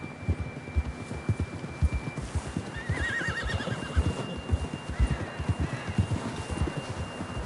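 A horse in the video game Red Dead Redemption 2 gives a clear, loud whinny over a steady rhythm of clip-clopping hooves, with faint ambient hum behind.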